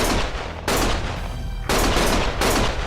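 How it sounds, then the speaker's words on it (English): Gunfire in a Lost Judgment cutscene, three loud broadband blasts of rapid shooting separated by short gaps, close and harsh with echoing tails. "Stop shooting!"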